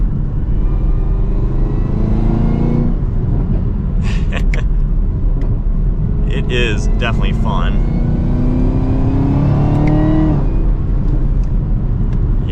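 Heard from inside a 2023 Chevrolet Camaro ZL1 on the move, a loud, constant low engine drone rises in pitch as it accelerates, with someone talking over it.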